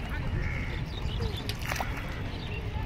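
Ducks on the Mahananda river call with short nasal quacks and squawks. The calls rise over a constant rushing outdoor background near the riverside, with faint voices mixed in.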